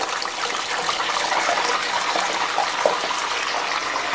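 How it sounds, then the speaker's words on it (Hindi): Chicken drumsticks are dropped into hot oil in a kadai and fry with a steady, loud hiss and sizzle. "कढ़ाई में ऑयल बहुत अच्छी तरह से गर्म हो रहा है। मैं एक एक करके दोनों ड्रम स्टिक्स इसमें डाल रही हूँ।"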